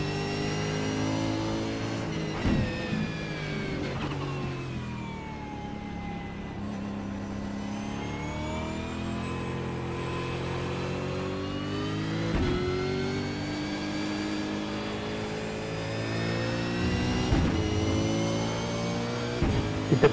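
V8 race cars of the OSR V8 Dev Series lapping the Silverstone International circuit: several engines roar steadily for the whole stretch, pitches climbing and falling as they rev through gears, loud and sustained with no talk over them.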